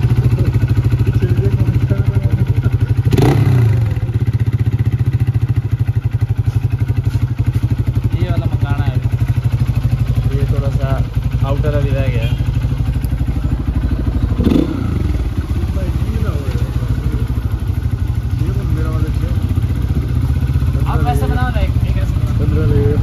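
A Hero Xpulse 200 4V motorcycle engine running steadily and close on a test ride, with clattering thumps and occasional revs under near-constant talking.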